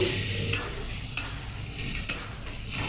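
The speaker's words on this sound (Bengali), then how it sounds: "শাকগুলোকে তেলের মধ্যে এখন দিয়ে ভালো করে শাকগুলোকে নিয়ে চেড়ে দিচ্ছি" Radish greens are stirred as they fry in hot oil in a pan, giving a steady close sizzle with a few sharp scrapes of the utensil, and no voices.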